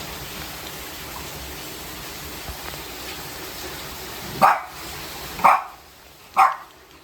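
A dog in rural Vietnam barks three times, loud single barks spaced about a second apart, rising out of a steady, noisy rain-like hiss.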